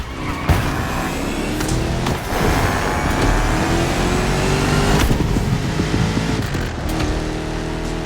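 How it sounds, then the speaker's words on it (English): A powerful 1969 Mustang Boss 429 engine roars and accelerates loudly, its pitch climbing through several gear changes with sharp bumps and clatters. "You're driving my #1 car, the star of my collection, the 1969 Mustang Boss 429."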